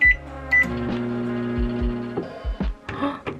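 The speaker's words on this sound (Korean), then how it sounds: "냄비나 프라이팬 쓰기 귀찮을 때 그냥 이렇게 전자레인지에 만들어요." A microwave oven hums steadily with beeps at the start, then door and button clicks and handling knocks close by.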